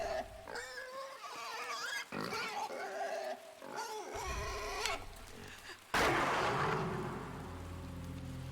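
A pig in the video game Inside grunts and squeals in loud, agitated bursts, followed by a heavy crashing impact and a rumbling tail of game noise.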